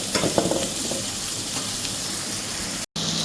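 Cumin seeds frying in oil for mutton pulav give a steady close sizzle, with a few stirring scrapes near the start and a brief cutout just before the end.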